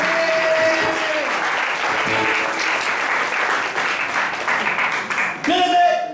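Congregation at a church service breaking into sustained applause, a dense, steady wash of clapping that fills the room for several seconds, swelling briefly again near the end as a voice and organ-like tone rise over it.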